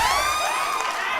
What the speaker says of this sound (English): A round of applause for Anile.